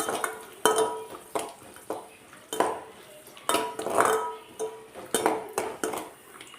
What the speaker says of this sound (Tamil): இப்போ இதுலேயே ஒரு கைப்பிடி அளவுக்கு திராட்சை சேர்த்துக்கலாம் இதை சேர்த்து நல்லா வதக்கி விட்டுறலாம்